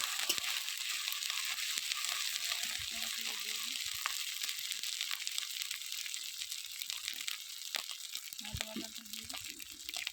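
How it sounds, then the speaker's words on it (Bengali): Onion and ginger paste fry in hot oil for a fish curry, giving a continuous dense sizzle close by, with occasional stirring scrapes and short bursts of faint talk. "তেলের উপরে পেঁয়াজ আর আদাটা একসাথে ভেজে লাল করে নেব"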